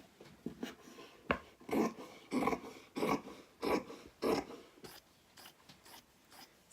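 Scissors cut through folded fabric for a lined pocket in a series of soft, close snipping crunches, roughly eight separate cuts in an uneven rhythm, each followed by a short quiet gap.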